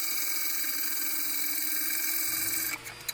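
A wood lathe turns a rustic locust bowl, giving a steady high-pitched whine with a constant tonal hum; near the end the motor note shifts and a low rumble joins as the speed changes.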